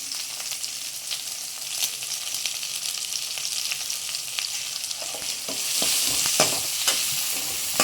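Onion, garlic and curry leaves fry in a pan for an okra tamarind curry: a continuous crackling sizzle with brisk stirring scrapes, growing louder and busier toward the end.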